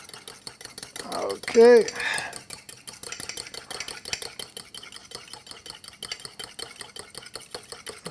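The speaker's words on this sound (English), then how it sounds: "Just when I think it's all stirred, there's some new stuff, and it'll settle a little bit, and I'll re-stir it" Steady scraping of a mixture being stirred by hand with a fork, a quick rhythmic clatter that runs close and continuous for the whole stretch, briefly interrupted by a short spoken word.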